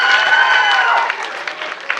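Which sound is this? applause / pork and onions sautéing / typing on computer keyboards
applause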